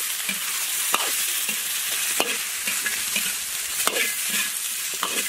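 Pig tails are stir-fried in a dry wok with no oil, giving a constant crackling sizzle. A spatula scrapes the pan in sharp strokes roughly every second.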